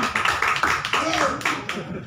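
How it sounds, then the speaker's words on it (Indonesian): Clapping from an audience at a talk show, a lively burst of hand claps with some voices mixed in, fairly close and loud. "Tepuk tangan dong."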